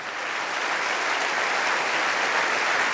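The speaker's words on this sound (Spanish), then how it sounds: "Alguien tiene que aplaudir más fuerte que eso" A church congregation applauds during a Spanish-language sermon, a continuous, even wash of many clapping hands that holds steady and fairly loud for the whole stretch.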